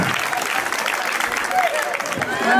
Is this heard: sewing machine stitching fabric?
no